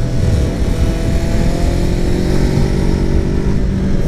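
A 2016 Honda CBR 500R motorcycle with an aftermarket exhaust drones steadily while riding, a loud, even engine note with road and wind rush and no clear gear changes.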